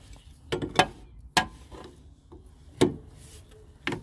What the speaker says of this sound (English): just got the adjustable on. Let's tighten it up a little bit more